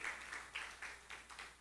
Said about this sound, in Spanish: Un aplauso para ellas por su trabajo.